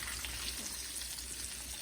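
Green tomatoes fry in a pan with a steady, even sizzle and crackle, continuous and close, with no talking.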